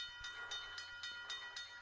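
A train rolls along in a video game with a steady rhythmic clatter of wheels over rail joints, evenly spaced knocks over a continuous hiss and rumble, moderately loud with no voices.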